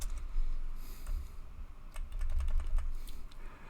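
Quick, light clatter of keys on a computer keyboard as a short file name is typed, close and fairly quiet, with no voice over it.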